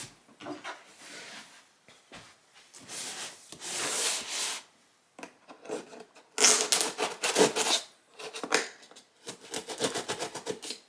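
Blade cutting through sticker seals on an ASUS ROG Flow Z13 laptop box, bursts of close crinkly scraping and tearing of cardboard and paper, irregular with short pauses between strokes.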